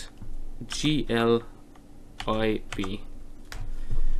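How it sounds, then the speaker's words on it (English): A computer keyboard is typed on in short bursts of soft clicks that sit under steady talk throughout. "you want to type in the top search U8GLIB"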